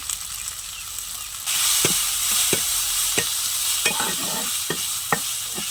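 Masala of chopped tomato, salt, turmeric and chilli powder sautéing in a pan, a steady sizzle that swells after a splash of water, punctuated by repeated spatula scrapes and taps at an irregular rhythm.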